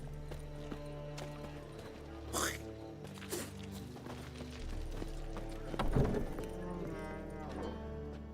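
Horse hooves clip-clop at a steady walking pace in Witcher 3, set against a continuous game soundscape. A couple of brief louder effects break in partway through.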